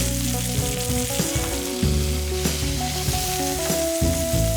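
Chicken breast skin sizzling in a hot pan with a halved bulb of garlic and thyme, a loud continuous frying crackle with some stirring clatter, no voices.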